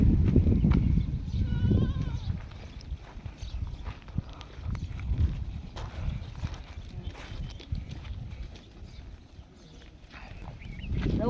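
Goats bleat a few times, fairly faint, amid shuffling farmyard noise outdoors on a farm.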